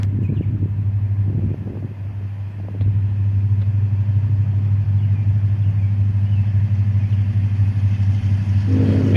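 A freight train pulls away northbound under steady acceleration, a loud, constant low drone and rumble that holds throughout with a brief dip early on, heard close and alone with no talking.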